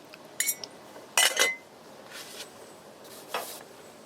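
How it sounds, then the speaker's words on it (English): Macaroni being stirred in a pot with seasoning brings a few short metallic scrapes and clinks of a utensil against the pot, spaced apart with quiet between them. "I want to make sure I continuously keep stirring it"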